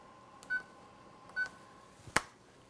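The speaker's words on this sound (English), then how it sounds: "Timer, 30 minutes." A kitchen oven timer is set to 30 minutes for Neapolitan stuffed peppers, giving two short, faint electronic beeps about a second apart, then a sharper click-like tap.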